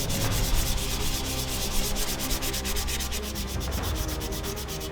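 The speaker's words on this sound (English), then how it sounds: "The sanding part of the process is very repetitive" Steady, continuous sanding of a puttied FDM 3D-printed filament art toy, a close, loud abrasive rubbing with rapid repetitive strokes and no talking throughout.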